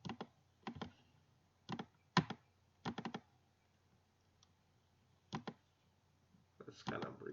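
Keyboard keys and a computer mouse click in short, close bursts of quick taps separated by quiet gaps, with a longer cluster of clicks near the end.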